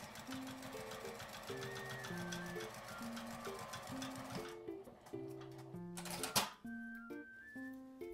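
A sewing machine stitches a lined mini box pouch made from a single piece of fabric, its fast needle rattle running in steady bursts with short pauses, close up and with no talking.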